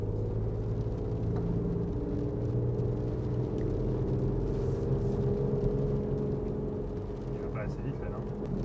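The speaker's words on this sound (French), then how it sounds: "le petit moteur de 72 chevaux se fait bien entendre. Il est quand même très présent dans l'habitacle." The 72 hp engine of a small Toyota city car heard from inside the cabin, a steady low drone and rumble while driving, constant and fairly loud with a faint voice over it.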